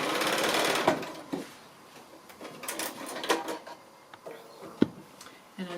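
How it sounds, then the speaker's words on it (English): Sewing machine stitching a quilt seam on a 60 degree diamond, a brief close run of rapid mechanical stitching followed by quieter clicks, taps and handling noises of fabric and machine parts. "So start right on that intersect and then just stitch right down, right across the point."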